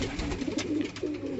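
A female pigeon at a fancier's loft coos in low, repeated rolling phrases, close by and fairly clear, with no talk over it.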